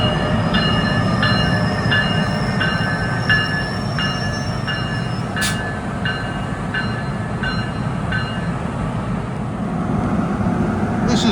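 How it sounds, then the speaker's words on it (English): A New Jersey local train rolls past on the rails, loud and close. Wheels rumble steadily under a repeating, evenly spaced series of squealing metallic tones, with one sharp clack partway through. "This is local train"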